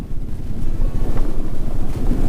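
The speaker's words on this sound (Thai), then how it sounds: "แล้วก็ลมเย็นมาก" Cold wind gusts across a foggy hillside campsite in Chanthaburi, a steady loud rush buffeting the microphone with no talking.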